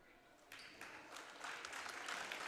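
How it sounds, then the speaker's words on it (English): A gym audience at a girls' high school basketball game breaks into applause for an injured player, the clapping rising from sparse to a fuller, steady patter that stays fairly soft and distant. "And everybody takes the clap for her recovery"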